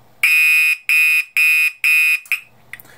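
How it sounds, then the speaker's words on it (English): Radionics D7412G fire alarm panel firing its sounder circuit during a walk test: four loud, shrill electronic beeps in a steady rhythm, each about half a second long, followed by a short chirp and a few faint clicks. "it did a quick blast of the NAC as soon as you start walk test"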